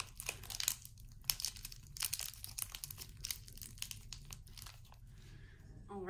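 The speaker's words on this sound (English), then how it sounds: "It's kind of hard to get out of the bag, so you can rip it out half and half." A plastic bag of air-dry clay being ripped open, a run of close crinkling and tearing bursts of plastic that trail off toward the end, with no talk.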